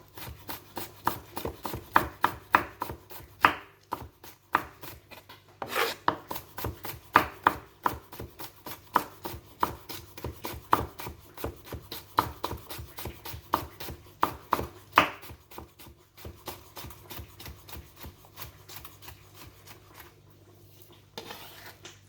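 Cucumber being chopped with a knife on a board, giving a long run of quick, sharp, regular knocks that are close and loud, slowing and fading toward the end, with no voices.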